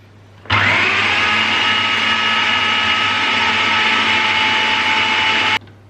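Electric blender whirring through a chicken shami kabab mixture: a loud, steady high-pitched motor roar that starts abruptly, runs evenly for about five seconds, then cuts off sharply.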